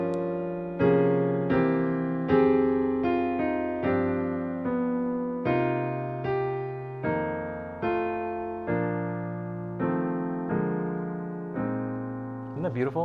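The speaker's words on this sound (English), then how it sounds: "this G half diminished, and it sounds like this" Jazz piano ballad arrangement of O Come All Ye Faithful on a G half diminished chord, a series of rich struck chords, each ringing and decaying, played slowly and alone.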